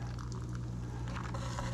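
Liquid from a cocktail shaker pours steadily into a volcano mug at a bar, a short, close, wet splashing over a low background hum.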